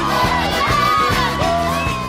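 Loud crowd cheering and whooping at a New Orleans event, a dense wash of voices with yells rising over a steady rhythmic music beat throughout.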